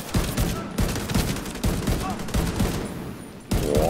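Rapid bursts of gunfire in The Division 2 crackle in quick succession, loud and close, with short gaps between volleys.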